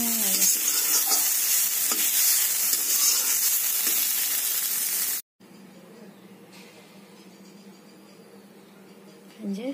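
Amaranth stalks and leaves frying and being stirred in a pan, a loud steady sizzle for about five seconds, then a short break and a quieter, softer frying hiss that continues to the end.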